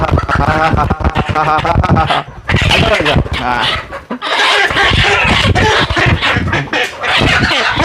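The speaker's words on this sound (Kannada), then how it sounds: "ನಾಟಿ ಕೋಳಿ ಹಿಂಗೆ ರೆಕ್ಕೆ ಹೊಡ್ಕೊತಾ ಕಾಣಬೇಕು" Native country chickens cluck loudly and repeatedly at close range, with bursts of wing flapping and a possible dog bark, while a person talks over much of it.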